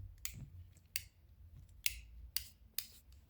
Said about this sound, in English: Oh, like the scales kind of move back and forth.